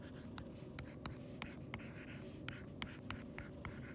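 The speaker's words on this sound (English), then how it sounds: "Let me write that down." Pen or marker writing by hand on a worksheet, a steady scratchy stroke with sharp taps and ticks as letters are formed, close and fairly quiet over a low room hum.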